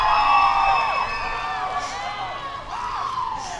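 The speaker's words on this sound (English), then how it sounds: "I would like you to cheer for them" An indoor convocation audience for first-year students cheers and whoops for an orientation leader, a loud crowd roar with high shouts that fades slightly and then swells again.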